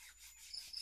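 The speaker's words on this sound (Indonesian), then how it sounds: "Kalau bisa diamplas memutar, karena ini ada sedikit cacat di asnya, kita amplas." Fine sandpaper rubs against a polished steel axle on a Suzuki Ichi N70, giving a soft, close, faint rasping scrape in a brief stroke.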